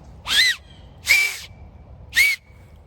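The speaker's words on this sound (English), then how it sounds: "acorn cap whistle" An acorn cap whistle blown through gloved fingers outdoors among oak trees on a November day, giving three loud, shrill, screechy blasts about a second apart, each short and piercing with a quick wavering pitch.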